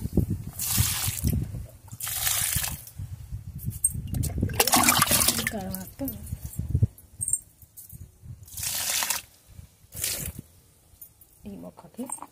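Half a mug of water mixed with Epsom salt poured onto potted plants, giving several separate splashing, trickling bursts close by, with pauses between pours.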